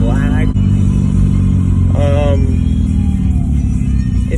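A Honda CR-Z engine tuned with KTuner V2 revs up sharply, the pitch climbing twice over a rough idle rumble, with a voice speaking over it.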